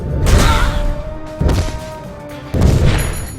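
Heavy crushing traps slam down on enemies in the video game Trapt, three loud booming smashes spaced about a second apart, each with a rumbling crash and tail, alone without talk.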